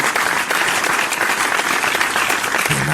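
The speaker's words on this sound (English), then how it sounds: "Where's the round of applause, my friend?" A round of applause with cheering rings out, dense and continuous clapping from a group, with a brief voice-like tone rising near the end.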